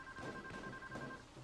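Telephone ringing in Payday 2, a steady two-tone electronic trill sounding at moderate level for over a second under faint background noise.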